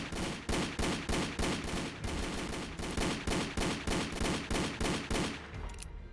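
Rapid gunfire in a Minecraft game, a fast regular train of loud shots spanning nearly the whole stretch before cutting off at the end.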